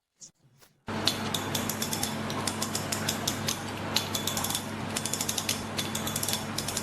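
A fidget spinner fitted with an ultra-dense click track spins steadily, giving a fast, close ratcheting chatter of fine clicks after a few soft handling knocks at the start.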